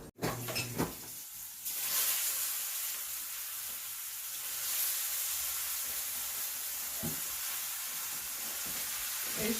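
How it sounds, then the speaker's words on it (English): Butter sizzles steadily in a hot pan, a bright continuous frying hiss after an opening clatter, quiet and close with a few faint knocks from stirring. "I'm gonna get the butter started"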